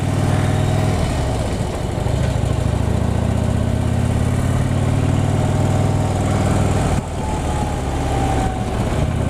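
A motorcycle engine pulls steadily while riding uphill, its mid-pitched drone loud and close with slight pitch changes, accompanied by wind noise and no speech.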